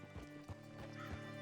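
A horse in Red Dead Redemption 2 clops its hooves in a few soft steps and gives a whinny, quiet and close.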